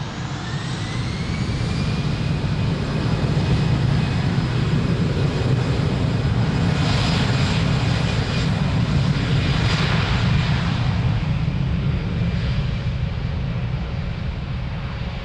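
An airliner taking off from runway 02 at Lisbon Airport: a loud, steady, close jet engine roar with a rising whine that holds throughout, no voices.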